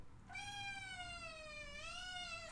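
A cat lets out one long, drawn-out mournful meow, close and clear, with a slight dip and rise in pitch before it ends, alone against a quiet background.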